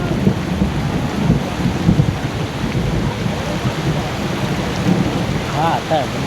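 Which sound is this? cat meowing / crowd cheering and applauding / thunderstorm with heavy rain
thunderstorm with heavy rain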